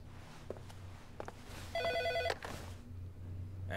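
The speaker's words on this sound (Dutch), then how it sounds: "Telefoon." Telephone ringing in the game Heavy Rain, one short electronic ring burst standing out over a low ambient hum and faint background noises.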